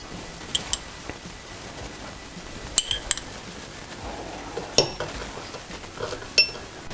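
A spoon clinks against a glass while jam is spooned onto cookies for a berry dessert, several light, bright taps scattered irregularly over quiet background.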